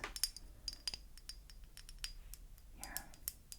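A vintage handmade glass bottle with an applied glass handle being handled, giving several sharp, bright clinks and taps scattered over a few seconds, close and fairly quiet with light rustling between.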